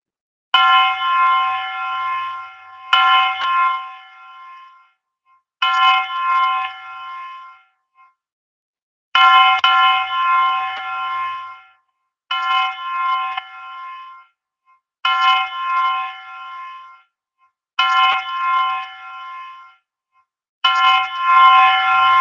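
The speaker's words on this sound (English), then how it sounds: "going to ring the bell 10 times during this moment of silence" A wrestling ring bell rung ten times as a tribute during a moment of silence, each clang loud and close. The strokes come at fairly even intervals, several seconds apart, and each one rings on and fades before the next strike.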